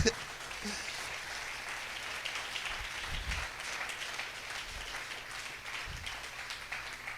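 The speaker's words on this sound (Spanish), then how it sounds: "Dale un aplauso grande." A church congregation applauds during a sermon, a faint, distant wash of clapping heard steadily at low volume with occasional low thumps.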